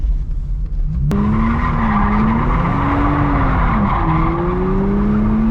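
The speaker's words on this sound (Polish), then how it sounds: "Bączka tam zakręcę na spokojnie." A Lexus IS200 spins a donut, tires skidding and squealing loudly in a sustained, wavering screech over a revving engine.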